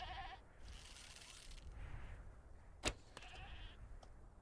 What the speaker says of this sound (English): Ooh, a goat respawned.